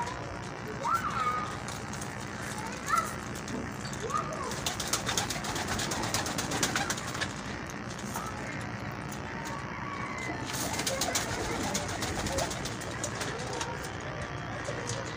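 Pigeons coo softly in low, repeated murmurs, with other bird calls and distant traffic in the background and faint voices at times.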